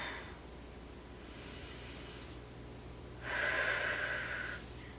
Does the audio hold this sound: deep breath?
yes